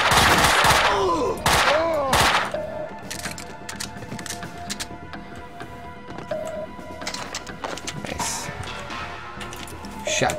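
Beretta pistols in Max Payne 2 fire a rapid burst of loud, close gunshots, followed by scattered shots and game effects over a busy background.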